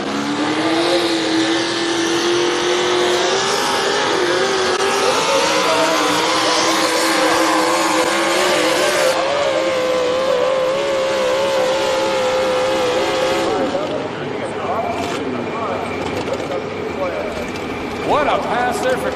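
A Pro Modified 4WD pulling truck roars continuously at full throttle during a pull at a truck-pulling competition, loud and sustained throughout, with an announcer's voice over the engine noise.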